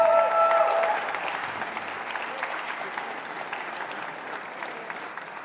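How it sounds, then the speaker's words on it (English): Spectators at a squash match at the Windy City Open 2024 break into a big round of loud, dense applause that settles into steady clapping, with a faint whistle near the start. "let's have a big round of applause for Egypt's Amina Orfi"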